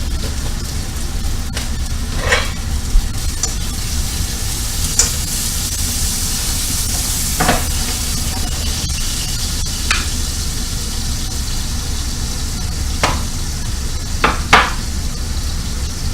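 Food sizzles steadily in a hot pan for a chicken pepper casserole, a constant loud hiss broken by occasional clicks and scrapes, with no talk.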